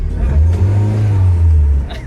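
Honda City car engine revving hard on acceleration, a loud low steady roar that holds for about two seconds and sits close and prominent.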